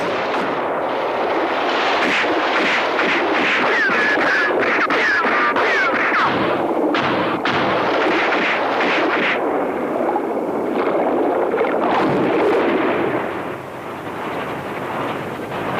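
Gunfire in an animated cartoon episode, a loud, dense stretch of rumbling shots and blasts with noisy bursts throughout, easing off near the end.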